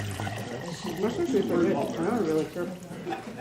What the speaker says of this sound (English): I'm just putting some warm water in here